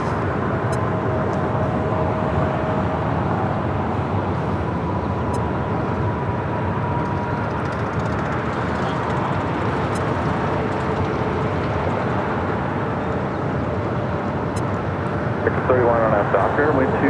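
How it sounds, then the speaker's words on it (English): An Airbus A380 arriving at LAX, a steady broad roar of a large four-engine jet on approach that holds loud and close across the whole span, with talk running over it. "The first A380 arrival, first of many throughout the course of the day."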